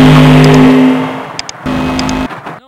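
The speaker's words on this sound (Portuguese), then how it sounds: "Não é música, é o som do carro." A V8 muscle car engine revs loudly at close range, its deep steady drone rising and falling through about two surges with a brief dip between them, then cutting off abruptly at the end.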